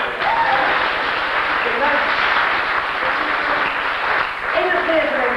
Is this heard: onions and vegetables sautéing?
no